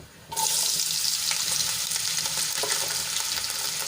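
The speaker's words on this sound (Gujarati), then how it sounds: "સરસ રીતે તેલમાં સાંતળી લઈશું" Cut potato pieces sautéing in hot oil seasoned with cumin and a pinch of asafoetida, a loud continuous sizzle that bursts in as they hit the pan, with occasional stirring scrapes, close and without voices.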